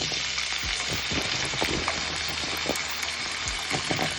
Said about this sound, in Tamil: அதில் தண்ணி இல்லாமல் வாழைக்காயை சேர்த்துக்கோங்க.